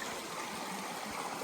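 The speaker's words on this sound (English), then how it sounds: "Blackwell Creek, flowing." Blackwell Creek on the Appalachian Trail in Georgia, flowing steadily with a continuous broadband rush of water, close and even throughout, no voices.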